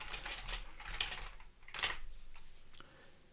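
Fingers tapping out data entry on a computer keyboard, a quiet close flurry of clicky keystrokes in uneven bursts with no voices.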